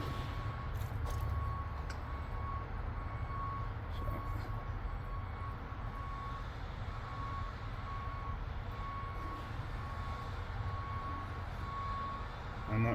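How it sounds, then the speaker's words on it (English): A truck's reversing alarm beeps steadily in the distance, a faint repeating tone over a low, constant engine rumble. "I'm sorry about that reverse siren that you're hearing over there,"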